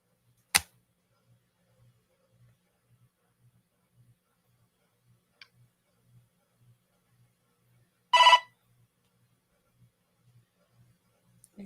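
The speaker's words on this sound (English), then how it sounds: "Let me turn off those notifications." Sparse notification chimes and pings sound over near silence, with a brief click early on and a short bright tone burst partway through, separated by long quiet gaps.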